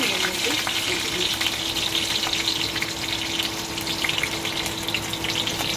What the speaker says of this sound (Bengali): কাঁচা লঙ্কা মেখে ফোড়নে দিলাম।